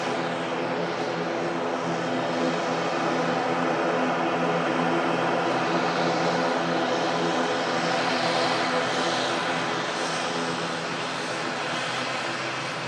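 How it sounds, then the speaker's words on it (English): A Turkish passenger airplane on the runway roars steadily and loudly throughout, its engines producing a dense, sustained drone with a tonal whine layered over a broad rushing noise. "Talk after this rather noisy plane vacates."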